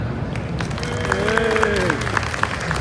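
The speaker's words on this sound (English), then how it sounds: "Ladies and gentlemen, huge round of applause, please, for Alan." Crowd applause at an indoor classic car show, a moderate continuous patter of clapping with a voice and some tonal sounds mixed in over the hall's background noise.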